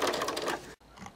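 A sewing machine with an edge joining foot runs a quick burst of edge stitching along a fine hem, a rapid mechanical whirr that cuts off abruptly, then faint handling noise follows.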